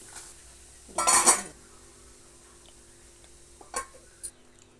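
A spoon clatters against a metal pot while sambar is stirred, a loud scraping burst followed by quieter clinks and a couple of light taps in an otherwise quiet kitchen.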